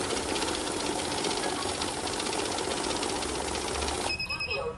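Cash counting machine sorting 500-rupee banknotes, a fast steady whirring flutter of notes running continuously, close and loud, before stopping abruptly near the end.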